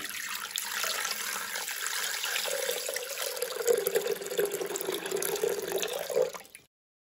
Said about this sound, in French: on met 1 litre d'eau dans le bol